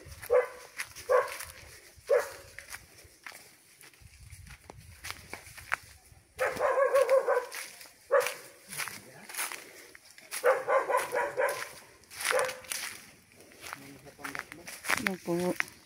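A dog barking near a house on a hillside in San Vicente, with repeated sharp barks coming in bursts between and under people talking nearby.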